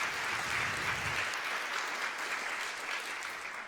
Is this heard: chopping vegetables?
no